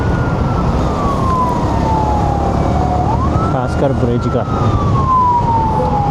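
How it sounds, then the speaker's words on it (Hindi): An ambulance siren on a highway in Vietnam wails, sweeping slowly down and up in pitch over loud road and engine noise, with someone speaking briefly underneath. "एम्बुलेंस आ रही है।"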